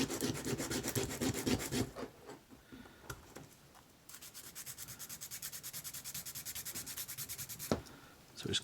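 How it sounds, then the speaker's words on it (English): Knife carving excess plastic from the skirt of a HeroQuest sorcerer miniature during restoration: close, steady scraping and rasping strokes, a dense burst at first, a pause, then a long run of regular rhythmic shaves with one sharp snap near the end. "So just carving back this side of the skirt here"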